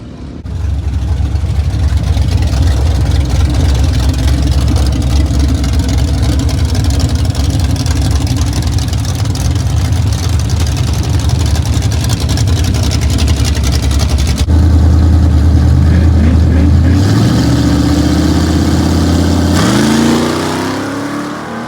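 A small block Camaro engine with advanced timing runs loud and close at the track, holding a steady rumbling idle before revving up in rising sweeps near the end.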